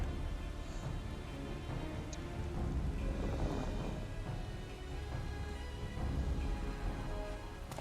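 Rain from the video game Final Fantasy XIV falls as a steady, dense hiss with a low rumbling underneath, continuous and fairly loud throughout, with no talk.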